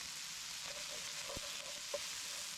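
Red onions and green peppers cook down in a pan with a soft, quiet, steady sizzle, broken by a couple of faint utensil taps; no talking.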